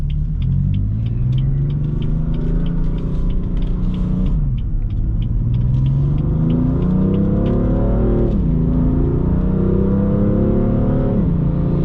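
A 2018 BMW M4 Convertible Competition with a dual-clutch transmission pulls hard and continuously, its steady roar climbing in pitch through the gears with brief dips at each shift, heard from inside.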